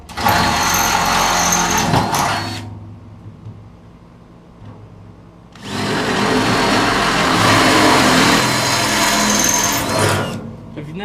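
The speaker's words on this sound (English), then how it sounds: "Now we'll come back and drill out the rest of our holes with our drill bit." A power drill whirs loudly in two long bursts separated by a few seconds of quiet, close up and steady in pitch, drilling holes for a rack on a Polaris 900/570 vehicle.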